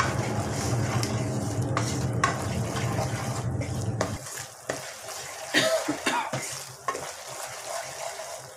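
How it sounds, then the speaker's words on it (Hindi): Wheat flour roasting in melted fat in a pot for atta halwa, stirred continuously with scraping and a soft sizzle; a dense frying hiss fills the first half, then lighter stirring clatter with occasional sharper knocks against the pot. "आटे को अच्छे से चलाते हुए भूनना है।"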